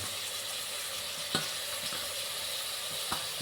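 Mint, coriander, onion and tomato sauté in a pan for chicken biryani, giving a close, steady sizzle with a couple of sharp stirring knocks against the pan.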